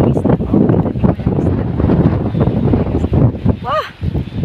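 Strong wind buffeting the microphone at Arbeyal Beach in Gijón, Asturias, Spain during high tide, a loud continuous rumbling roar with surf underneath and a brief high voice near the end.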